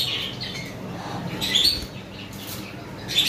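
Pet birds in a shop, lovebirds among them, squawking and chirping in short bursts over a busy, noisy background with no clear talk.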